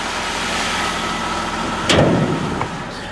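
A low-budget car's engine idles steadily and fairly loud and close, a constant rumbling drone with a brief louder swell partway through and no talking.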